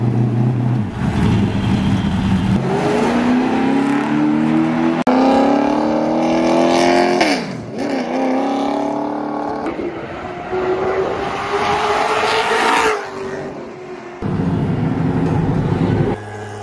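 A stock car at Hickory track being shaken down over a few laps, its engine loud and close, rising and falling in pitch through gear changes and corners in a continuous roar.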